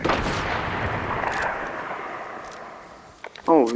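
Gunfire in the Fortnite video game, a dense sustained burst of shots filling most of the clip, fading near the end before a short tonal sound; a voice talks over it.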